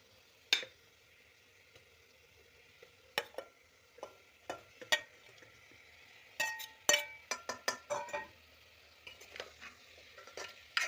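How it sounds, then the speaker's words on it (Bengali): Chicken and potatoes are sautéed in spices in a pan, with intermittent sharp scrapes and clinks from a spatula, quiet at first and then quickening into a cluster of stirring strokes over a low sizzle. "এবার চিকেনগুলো এর মধ্যে দিয়ে আলু আর চিকেন দুটোই দিয়ে দেবো, দিয়ে ভালো করে কষে নেব।"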